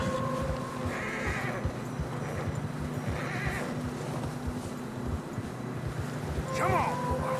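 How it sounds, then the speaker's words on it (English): Horses plodding through deep fresh snow in Red Dead Redemption 2, with muffled hoof steps and neighs over a steady wind-like bed and game music, close and continuous, ending in a louder whinny. "Horses are struggling. Yeah, a lot of fresh snow here."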